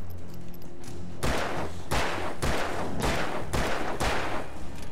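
Gunfire from the Alan Wake video game: about five loud, sharp shots fired in a steady rhythm, each with a short ringing tail, close and prominent over a low ambient game background.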